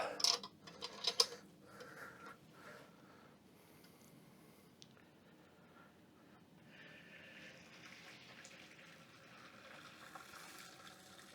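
Wort drains from a home-brewing vessel after the grain bed is lifted out, a faint steady trickle and splash following a few clanks and taps at the start, fairly quiet and close.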